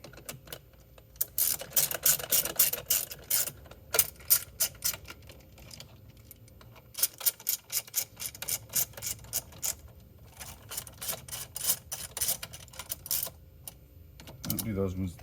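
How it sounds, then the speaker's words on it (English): A ratchet clicks in quick repeated bursts while tightening bolts on a Speed UTV, sharp close ticking runs separated by short pauses, with a voice briefly under it. "Hit those with the ratchet if you want to."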